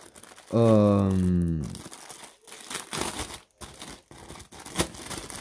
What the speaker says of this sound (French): C'est du papier à poncer.